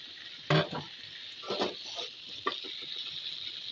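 Red long beans dropped into a hot pan and stirred, with a sharp sizzle burst at the start and then softer scraping and frying crackle over a steady hiss, close up with no talking.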